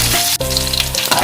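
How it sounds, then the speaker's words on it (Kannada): Crushed garlic fries in hot oil for a tempering, giving a loud, close, continuous sizzle with one brief stir partway through. "ಈ ಬೆಳ್ಳುಳ್ಳಿ ಸ್ವಲ್ಪ ಫ್ರೈ ಆಗಬೇಕು,"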